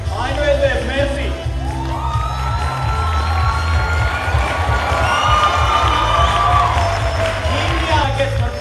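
School KVN league audience cheering, whooping and clapping, with children's shouts rising over a loud, continuous crowd roar; voices call out throughout.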